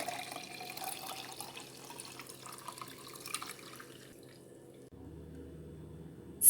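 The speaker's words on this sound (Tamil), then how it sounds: "இப்போ இதை வடிகட்டி ஒரு கிளாஸில் எடுத்துக்கலாம்." Lemonade strained into a glass, a soft trickle of pouring liquid at low level, with a brief lower gurgle near the end.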